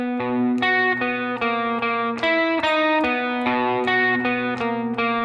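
Electric guitar playing the palm-muted riff, with distorted, chorus-tinged tone over a sustained low open string, repeating a steady pattern of fretted notes, loud and close with no talking.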